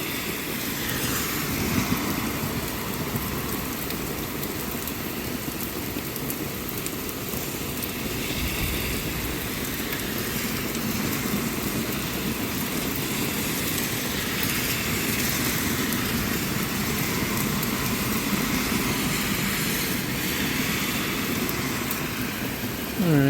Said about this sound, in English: Alright, so this storm is still going, but it's starting to move past us a little bit.